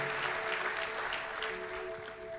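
Church congregation applauding steadily throughout, a dense continuous wash of clapping with a faint sustained tone underneath and no speech over it.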